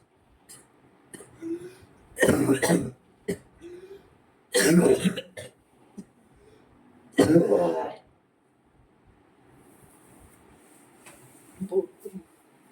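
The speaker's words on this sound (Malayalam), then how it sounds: "ചുമ സീരിയസ് ആണ്" Three loud, harsh coughing bursts separated by pauses, followed by softer throat sounds and a small cough near the end.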